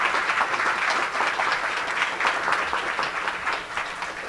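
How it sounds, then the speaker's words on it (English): A warm round of applause from an audience at an Open SUNY community event, steady dense clapping that holds at a constant level throughout, with no talk over it. "let's give her a warm round of applause"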